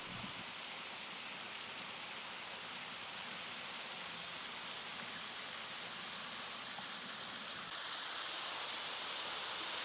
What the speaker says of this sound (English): This waterfall is only a few hundred feet from the parking lot.